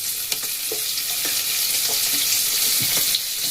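Cornflour-coated soybean chunks fry over a high gas flame with a loud, continuous sizzle and hiss, broken by occasional stirring clinks and scrapes, close up with no voices.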